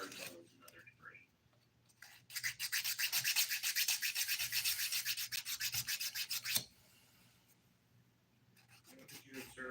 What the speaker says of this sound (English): I'm using the 100 grit side to get any dip off my skin that I happen to see while I'm filing.